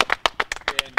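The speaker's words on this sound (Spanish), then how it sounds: "un aplauso para este muchacho" Several people clap in quick, uneven rhythm, close by, with a voice mixed in.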